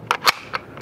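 M3 Grease Gun open-bolt submachine gun fired in light rain: a very short burst of about three sharp, loud cracks in quick succession, with no talking.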